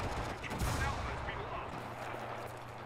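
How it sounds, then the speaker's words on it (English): Gunfire in the WWII video game Enlisted, a burst of sharp reports and rumbling battlefield noise heard at moderate distance, fading into a steady background din. "Hear shots from over here."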